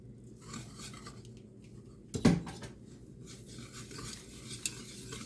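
Brown sugar is stirred into melted butter for a pineapple upside-down cake: soft, close scraping and swishing of a utensil in a pan, broken by one sharp metallic clank midway and a small tick later, with no speech.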